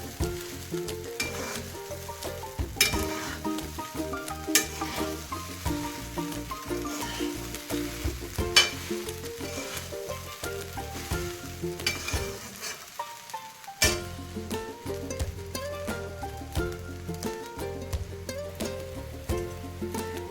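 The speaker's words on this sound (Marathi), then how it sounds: "असं चांगल्यापैकी हलायचं, नाही तर मग साबुदाणा खाली लागतो, बुडायला लागतो." Sabudana khichdi being stirred in a large pan, with continuous loud sizzling and frying under dense, repeated scraping and clatter of a spoon against the pan, one brief pause midway.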